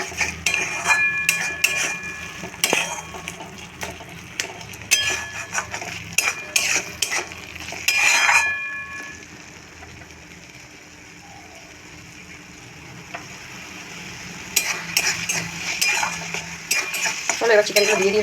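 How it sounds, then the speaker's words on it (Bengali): A spatula scrapes and clinks against a wok while a spice masala, with sugar and fried potatoes, is stirred and sautéed, in bursts of rapid metallic stirring that pause into a quiet stretch and then resume. "এই যে বন্ধুরা, মশলাটা কষাচ্ছি এখন।"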